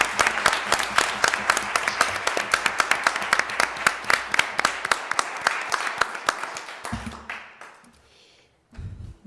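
A disabilities advisory board meeting audience gives award winners a round of applause, crisp individual claps from a modest group, close and loud, tapering off into quiet with a brief stir of sound at the end.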